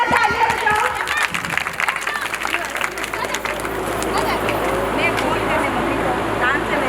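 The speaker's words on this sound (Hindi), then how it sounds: "जोरदार तालियां बजाओ।" Audience applause and crowd noise at an annual cultural programme, a dense steady wash of clapping mixed with murmuring voices lasting throughout.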